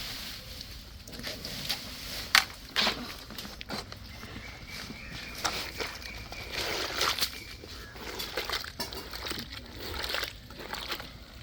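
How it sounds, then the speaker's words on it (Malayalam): A bag is dipped into water and sloshed around outdoors, giving soft, intermittent splashes and sloshing at moderate distance over faint background noise. "ഇനി ഈ വെള്ളത്തിലേക്ക് ഞങ്ങളുടെ ബാഗ് മുക്കാൻ പോകും."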